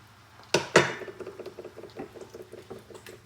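Water goes into a stir-fry pan of cucumber and pork, starting with two sharp metallic clatters and then a quick run of soft, rhythmic bubbling taps close by, with no talk.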